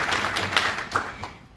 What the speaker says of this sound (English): Let's clap for our NEC leadership.